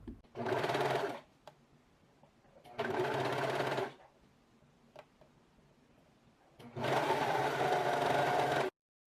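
Sewing machine stitching elastic onto swimsuit straps, running in three separate bursts with quiet pauses between them, close and moderately loud.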